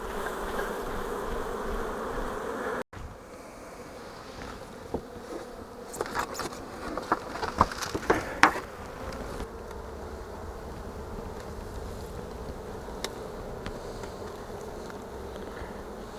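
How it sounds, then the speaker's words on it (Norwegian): Honeybees buzz in a steady, dense drone as they are shaken off a hive frame while a split hive is made, with a sharp thump early on and a few knocks and clicks from handling the frames. "Rister av biene."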